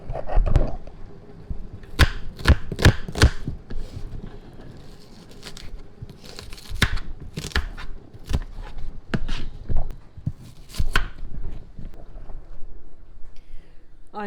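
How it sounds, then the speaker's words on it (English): White onions being chopped with a knife on a board at home, a series of sharp, close taps in irregular bursts, with some speech mixed in. "So I'm going to carry on chopping the onions"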